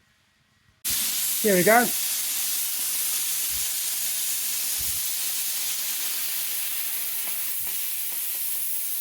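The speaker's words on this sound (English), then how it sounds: "open the drain valve" An air compressor's drain valve is opened, releasing a sudden loud, steady hiss of escaping air that holds on without a break. A person speaks briefly near the start, over the rushing air.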